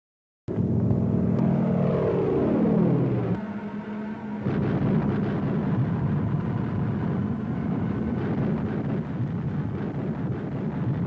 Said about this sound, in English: The roar of the planes you now hear is not a practice maneuver.